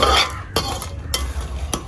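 Paniyaram batter being stirred and mixed in a bowl by hand, a steady scraping and swishing with several distinct clinks of the utensil against the container, close and alone.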